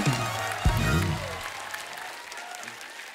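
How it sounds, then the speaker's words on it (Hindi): A studio audience applauds guests on The Kapil Sharma Show, the dense clapping running under a brief low musical sting early on and gradually thinning and fading toward the end. "एक बार जोरदार तालियां हमारे मेहमानों के लिए।"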